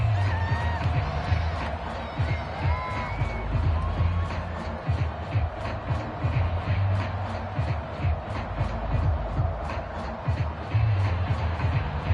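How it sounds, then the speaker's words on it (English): Crowd noise in an American football video game on PS4, a continuous stadium roar of cheering and whoops running under game commentary. "How about some applause for the defense there?"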